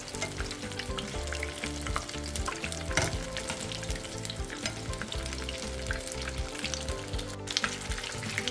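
Conch fritters fry in hot oil, giving a steady, dense sizzle and crackle that stays loud and even from start to finish, close by and with no voices.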